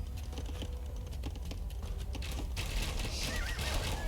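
Horses neighing in a strategy video game, a whinny rising over a busy mix of clicks, patter and game ambience that keeps up steadily for about four seconds.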